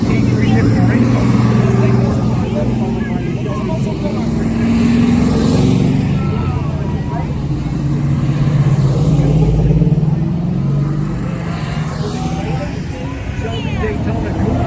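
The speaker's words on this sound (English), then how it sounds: "BMW CSL racing car next in line." A vintage BMW CSL racing car rumbles past in a race car parade at Lime Rock in 2019, its engine a steady, loud drone that swells and eases while an announcer talks over it.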